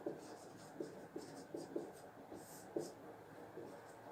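Chalk tapping and scratching on a board in a classroom, with faint, irregular clicks and short strokes against a low background hum.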